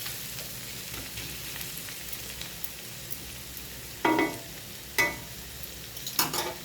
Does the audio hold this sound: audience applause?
no